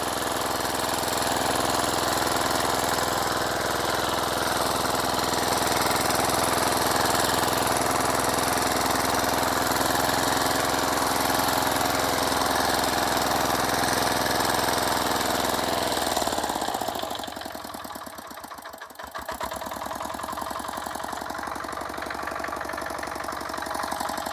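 A ZUBR HT135 motor tiller churns through a garden bed, its engine droning loud and steady at close range before the tone drops and changes near the end as the load eases, with no voices over it.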